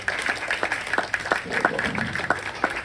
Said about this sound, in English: big round of applause for Beast.